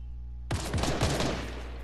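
Gunfire in Fortnite starts suddenly and runs as a rapid automatic burst of close shots that rattle on and fade into echo, with no talking over it.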